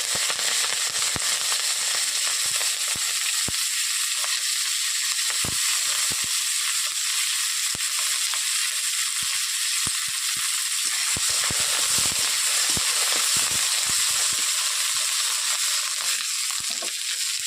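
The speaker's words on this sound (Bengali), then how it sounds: "কড়াই গরম হয়ে গেছে, কড়াইয়ের মধ্যে আমি পেঁয়াজ দিয়ে দিচ্ছি।" Onions fry in hot oil in a hot kadai for a fish dish, giving a loud, continuous sizzle with scattered sharp crackles and pops, close up and with no talk.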